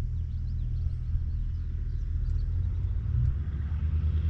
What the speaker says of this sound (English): FedEx truck, dropping packages off.